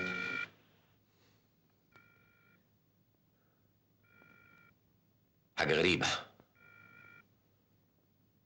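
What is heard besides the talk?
telephone ringing unanswered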